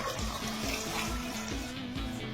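Water pours into a clay cooking pot for Odia dalma with kosala saga, a steady, close splashing trickle that runs briefly on its own.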